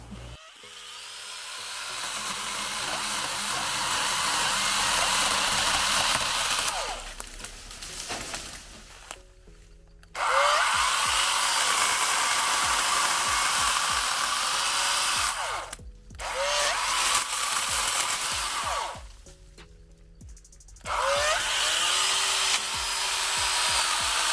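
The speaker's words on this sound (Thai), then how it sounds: "ก็ใช้งานได้ดีครับสำหรับชุดรวมแบตเตอรี่กับ เลื่อยโซ่ไร้สายขนาด8นิ้ว" A small 8-inch cordless chainsaw on an 18V battery whines loudly and steadily in bursts, cutting out briefly a few times before starting up again, with no talking.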